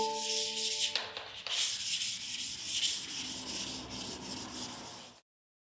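Car primer is hand-sanded with 600 grit sandpaper in quick, scratchy back-and-forth strokes, close and steady for about five seconds before stopping abruptly, with no speech.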